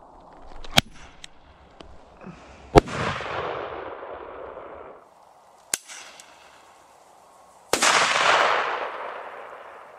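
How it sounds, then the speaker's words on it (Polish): Blank flares fired one after another from a Lexon 11 pistol outdoors: sharp loud bangs, two big reports each trailed by a broad whooshing hiss, along with a few smaller cracks and pops, no talk. "Jeszcze jedna raca hukowa, zobaczymy, jak z tej wystrzeli."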